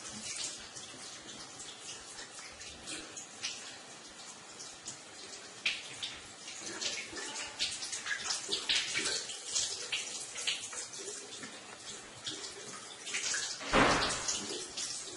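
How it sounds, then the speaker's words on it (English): Water runs steadily from a sink tap as hands are rinsed clean of soap during an aseptic handwashing routine, a continuous close splashing hiss with a brief louder gush near the end, no voices. "Rinse your hands in the same way to make sure that all the soap is rinsed."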